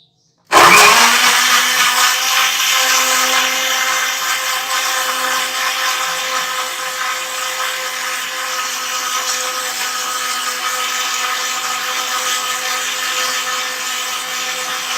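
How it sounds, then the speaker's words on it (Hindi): An electric blender whirs loudly as it purees raw mango for kairi sharbat, starting abruptly and holding a steady high-pitched motor drone throughout with no talk. "हम इसको दोबारा ब्लेंड करेंगे।"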